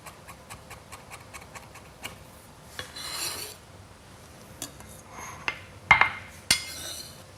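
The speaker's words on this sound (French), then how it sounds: "pour hacher encore plus finement le zeste, vous pouvez poser à plat le couteau comme ça" A knife laid flat rocks back and forth over orange zest on a cutting board, giving a run of soft, rapid scraping taps with a few sharper knocks near the end, close and quiet, with no talking.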